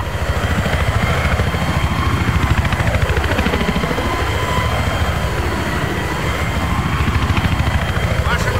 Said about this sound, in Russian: Обнаружен вертолет противника, прием!